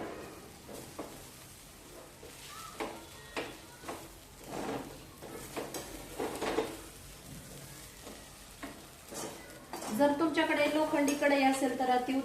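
Soft scraping and stirring of veg Hakka noodles with Schezwan chutney in a pan, light sizzling and occasional clinks, then a person starts talking near the end.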